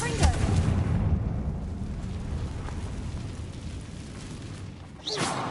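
A Confringo fire spell blast in the Hogwarts Legacy video game erupts with a deep, sustained roar that rumbles through the whole stretch, topped by a brief burst near the end.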